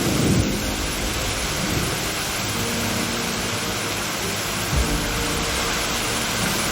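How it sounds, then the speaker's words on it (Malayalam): Heavy rain pours steadily during a thunderstorm with strong wind in Wayanad, with deep rolls of thunder rumbling beneath the downpour. "വയനാട്ടിൽ ശക്തമായ കാറ്റും മഴയും"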